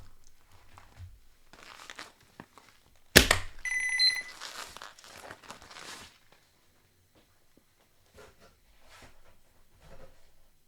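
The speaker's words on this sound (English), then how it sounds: "I should kill that buzzer." A Cougar GX 800W power supply under repair gives a short electronic buzzer tone right after a sharp click. It is a brief, fairly loud burst on a quiet workbench, with faint handling noises before and after.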